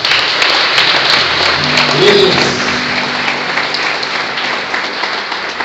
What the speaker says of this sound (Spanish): Aplausos para el Señor.